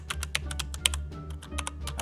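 Rapid clacking keystrokes on a loud computer keyboard, irregular but steady clicks close to the microphone over a low electrical hum in a quiet room.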